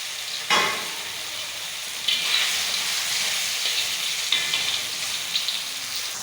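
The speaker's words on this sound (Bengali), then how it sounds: "পনিরগুলোকে আমি অল্প অল্প করে ভেজে নিলাম" Paneer pieces frying in a pan give a steady, loud sizzle throughout, broken by a few sharper bursts of crackle as pieces are moved, with no voices.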